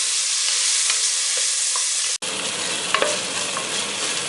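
Green peas fry in a pan for Bengali bhuna khichuri, giving a steady close sizzle with a few light stirring taps; the hiss drops out briefly midway, then resumes.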